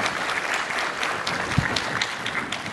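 Steady crowd applause at a Bitcoin hardware-wallet workshop, a dense, continuous wash of many hands clapping at moderate volume with no single claps standing out.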